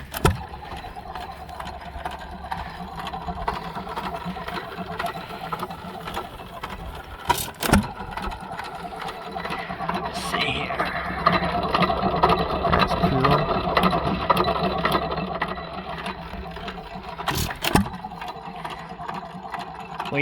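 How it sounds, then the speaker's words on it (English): A 1925 Hercules hit-and-miss engine runs steadily at an outdoor farm show, its rhythmic chugging continuous throughout, with a couple of sharp clanks standing out over the ambient noise. "Hercules 1925 hit and miss engine."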